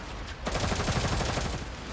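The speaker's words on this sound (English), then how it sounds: "Jing Yu and Jiao Hui immediately rake the enemy's support weapons with gunshots" Bursts of rapid gunfire from a firefight in the video game Girls Frontline 2, a dense rattling volley starting sharply and carrying on loudly for the rest of the moment.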